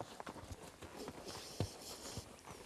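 A horse's hooves clip-clop in uneven, scattered steps at close range during a horsemanship session, with a few sharper knocks among softer thuds and no talk over them.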